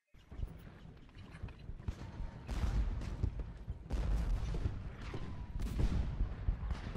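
Troop musket volleys in Ultimate General: Gettysburg, crackling bursts of massed gunfire that swell in several waves at mid distance, with a low rumbling battlefield bed and faint mechanical clatter.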